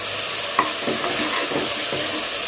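Tomatoes sautéing with salt in a pan for a spinach sambar: a steady, close hiss of frying with a few soft stirring scrapes and one brief clink.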